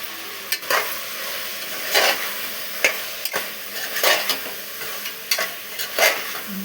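Eggplant peanut curry frying in a pan is stirred with a utensil, giving repeated scraping strokes about once a second over a steady, close sizzle with no talking.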